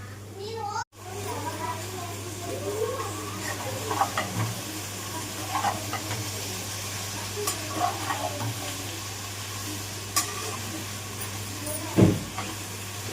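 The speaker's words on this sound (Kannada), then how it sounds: "ನಾನು ಈರುಳ್ಳಿ ಬೆಳ್ಳುಳ್ಳಿ ಶುಂಠಿ ಎಲ್ಲ ಮಿಕ್ಸ್ ಮಾಡಿ ಹುರಿತಿದ್ದೀನಿ." Onion, garlic and ginger fry together in a pan for a Malnad-style fish curry, giving a steady soft sizzle with occasional stirring scrapes, close and moderate, and a brief clatter near the end.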